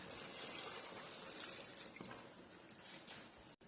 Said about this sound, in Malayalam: അതുകൊണ്ട് ഇത്തിരി വെള്ളം ഒഴിച്ചു കൊടുക്കുന്നുണ്ട്.